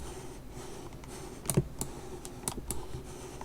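Computer keyboard keys and mouse buttons clicked while editing a mask in photo software, a handful of sharp, close clicks scattered over a quiet room hum, with a quick double click near the middle.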